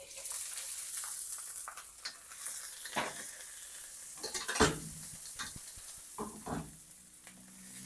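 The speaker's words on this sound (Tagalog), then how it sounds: "umuusok na yung ating wok or any pan. And then, painitin natin yung cooking oil. And then, saute." Crushed garlic sautéing in hot cooking oil in a smoking wok, a steady bright sizzle throughout with occasional scraping stirs and utensil clinks.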